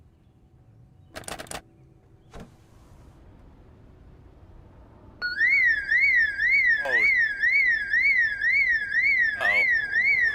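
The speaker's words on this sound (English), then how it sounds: "They actually have an alarm. Oh my god, that's gonna attract everything. It's so loud." A loud car alarm in Project Zomboid kicks in midway and wails in a steady repeating warble, after a few quieter knocks and a brief exclamation.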